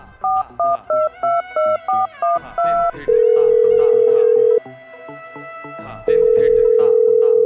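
A telephone keypad beeps through a quick run of dialing tones, followed by long steady ringback tones heard alone and loud.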